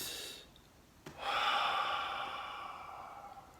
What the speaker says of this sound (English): If I take a full breath